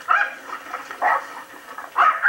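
An American Bulldog in a yard barks three times, each short, loud, close bark separated by about a second, with no talk over it.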